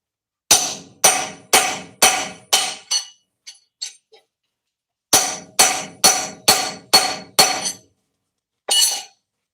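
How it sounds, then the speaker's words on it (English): Hammer strikes repeatedly on a homemade chisel being tested for durability, sharp metallic whacks in two quick rhythmic bursts of about six blows each, with a few lighter taps between and one last blow, loud and close. "Give it another few whacks for good measure."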